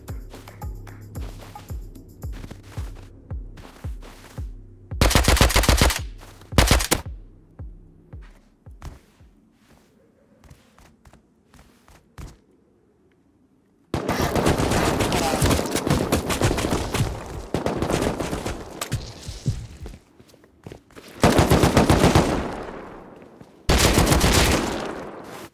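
Automatic gunfire in the survival game Rust crackles in loud sustained bursts, with several long volleys separated by quieter stretches of sparse single shots and footsteps, and no one talking.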